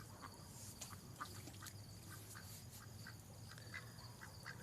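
Ducks quack repeatedly in the distance, faint calls scattered across a steady nighttime background hum with insects chirring.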